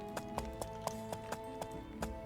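Steady hooves of a horse walking clop along in the game Life is Feudal, about eight even beats at a walking pace over a constant hum of game music and ambience.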